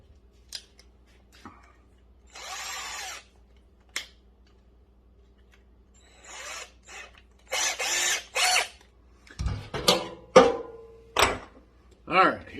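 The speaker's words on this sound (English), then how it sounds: "so let's make some holes." Short bursts of a drill boring holes for 1/4 fasteners in a homemade fuel cell, several separate runs of a few seconds each, close and loud, with brief clanks and someone speaking between them.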